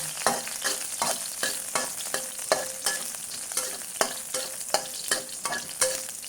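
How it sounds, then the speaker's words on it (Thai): Two heads of garlic stir-fry in a hot pan for a dish of green chilies and pork meatballs, giving a constant crackling sizzle cut by regular, rhythmic scrapes and knocks of a spatula, close and fairly loud. "ใส่กระเทียมสองหัว ลงไป นี่ครับพัดให้กระเทียมหอม"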